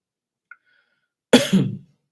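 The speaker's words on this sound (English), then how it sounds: "Didn't want to cough all up in the mic." A single close, throaty cough breaks a near-silent pause, preceded by a tiny faint click.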